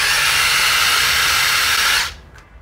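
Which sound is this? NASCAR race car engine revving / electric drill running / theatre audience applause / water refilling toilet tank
electric drill running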